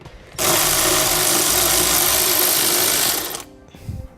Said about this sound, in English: we're going to remove this screw to give ourselves a little bit more room to work